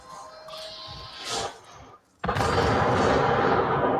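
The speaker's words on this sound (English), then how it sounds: "That's actually a really satisfying looking explosion" Explosion in a video game, an abrupt loud blast that follows quieter game sounds and rolls on as a dense, sustained roar through the rest of the moment.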